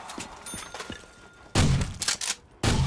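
Trench gun shotgun blasts in Call of Duty zombies on Nacht der Untoten, with lighter game thumps first, then two heavy, booming shots about a second apart, loud and close, with no talking.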